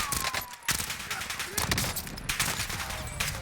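Rapid bursts of DMR rifle fire at close range in the Warzone video game, loud and continuous with a brief break, crackling shots packed tightly over a noisy game soundscape.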